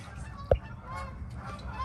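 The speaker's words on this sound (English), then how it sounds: "shut up geese" Geese honk faintly in the background near a vehicle repair spot, one short honk standing out above a low, murky wash of outdoor noise.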